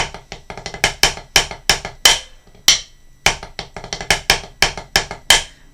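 Rapid snare drum strokes with quick doubled bounces, played in short bursts with brief pauses, crisp and close.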